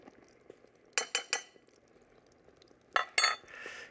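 Sour cream gets mixed into a dessert batter in a bowl: two bursts of quick clinking utensil strokes against the bowl, three strokes each, separated by quieter soft stirring, close up.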